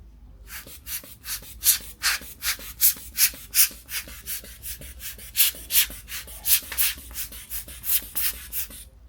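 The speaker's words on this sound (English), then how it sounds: "now I'm gonna clean the back of the case" Cleaning the back of a Seiko Nautilus watch case built on an NH35 movement gives close, rhythmic rubbing strokes, roughly two per second, in a steady series of soft scrubbing bursts with no talk.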